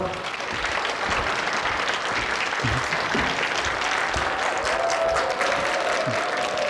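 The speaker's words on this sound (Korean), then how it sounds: "박수 부탁드리겠습니다." An audience at a book talk applauds in a hall, sustained dense clapping from many hands that holds steady and fairly loud throughout, with faint crowd murmur mixed in.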